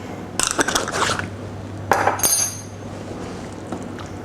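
Close clinks and scrapes of a spoon against a dish as basil is mixed into a beef lasagne filling, a scattered burst early and another a moment later, then quieter.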